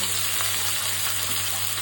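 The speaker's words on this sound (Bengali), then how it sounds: "আমি একটু জাস্ট থোর ভাজা করবো।" Sliced banana stem fries in a hot pan with oil, giving a steady, dense sizzle and crackle that continues evenly and close up, with no talking.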